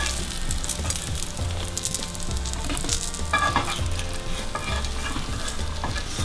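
Masala eggplant frying in a pan, a loud continuous sizzle with stirring and scraping sounds throughout, close up and steady with no voices.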